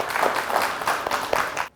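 Audience applause at a Kannada singing reality show, a dense burst of clapping from a crowd that holds steady for under two seconds and then cuts off abruptly.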